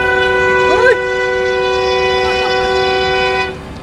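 A train sounds its horn at a crossing, a loud sustained multi-tone chord with two blasts, the first rising into a steady held blast that runs nearly four seconds before cutting off, over constant rumbling rail noise.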